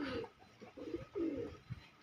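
Pigeons in a flock of about fifty coo softly nearby, several low rolling calls in an uneven sequence over quiet background, no talk.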